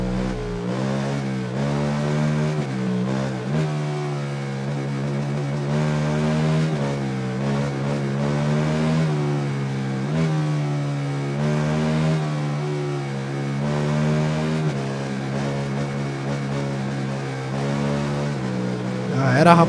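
In the video game Ride 3, a KTM 1290 motorcycle engine revs hard and steadily, its pitch climbing and falling through repeated gear shifts at close, loud range.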